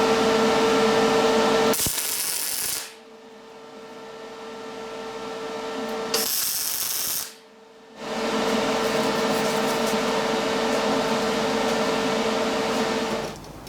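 Square tubing shoulder pieces clamped to a bench are welded in a loud, steady crackling hiss, broken by two short pauses between continuous bursts.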